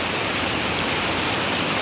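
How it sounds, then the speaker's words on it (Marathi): Heavy rain pours down in a dense, steady hiss with no pauses, in Narayangaon. "आपण पाहू शकता पावसाचा जोर हा वाढत चाललेला आपल्याला पाहायला भेटत आहे."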